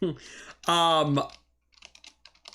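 Clicky keystrokes from a Corsair computer keyboard come in a quick, light patter after a brief burst of a person talking.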